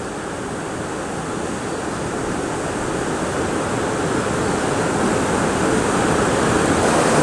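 Lower falls of a river on Wisconsin's Bayfield Peninsula, crossed by a wooden footbridge, pours in a steady, full broadband roar that swells slightly louder over the seconds, heard up close with no talking.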